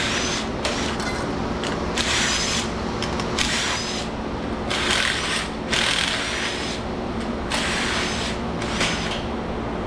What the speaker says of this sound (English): the screws are coming right off. The ones that look really corroded, I'm just wiggling the gun around